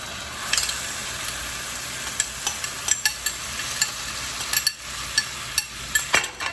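Sofrito of raw onions and peppers sizzles steadily in a hot pan, with sharp clinks and knocks from stirring scattered through the constant frying hiss.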